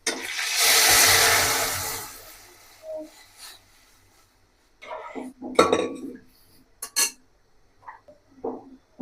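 Lentils tipped into a cooking pot over onions fried red with bay leaf, cumin and panch phoron: a loud rushing splash-sizzle lasting about two seconds, then scattered clinks and scrapes of utensils against the pot.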